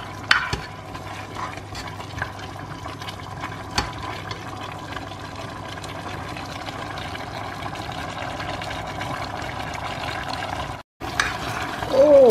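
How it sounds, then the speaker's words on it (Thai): Chicken is stir-fried with salt and fish sauce in a pan, giving a constant low sizzle with occasional scrapes and taps. A brief gap comes near the end. "คั่วให้มันเข้ากันแป๊บนึง"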